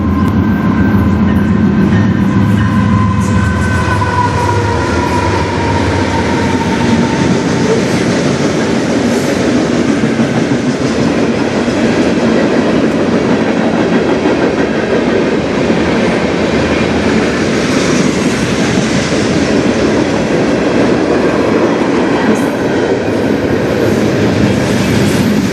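A train passes close by on the Strathroy Subdivision, a loud continuous rumble with steady wheel clatter and rail noise that holds for the whole stretch.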